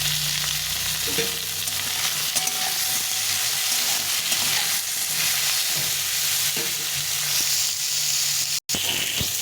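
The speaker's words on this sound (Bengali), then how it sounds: "এখন আমি একটু লবণ, একটু হলুদ দিয়ে ভালো করে আলু পটলটাকে ভেজে নেব" Potatoes and pointed gourd fry in hot oil with salt and turmeric, giving a steady close sizzle with occasional stirring scrapes throughout.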